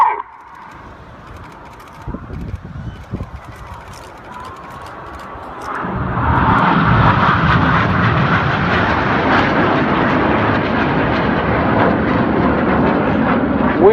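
Red Arrows Hawk jets performing at the Bournemouth Air Festival, a faint distant hum that swells into a loud continuous roaring jet rush as the aircraft pass overhead, with crowd murmur beneath.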